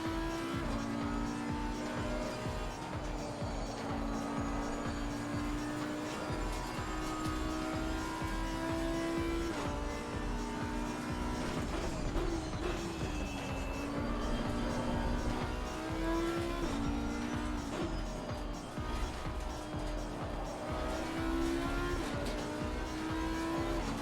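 Race car in the Assetto Corsa video game driving on a track, its engine droning steadily with repeated rising and falling pitch as it shifts and accelerates, with occasional tire squeal, continuous throughout.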